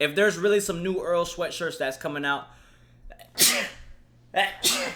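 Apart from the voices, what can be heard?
sneeze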